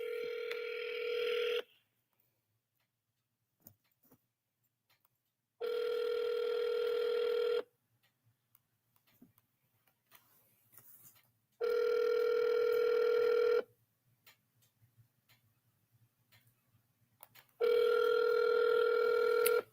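A telephone on a call-back gives a steady dial-type tone in four long, even bursts of about two seconds each, with silent gaps between them, loud and close.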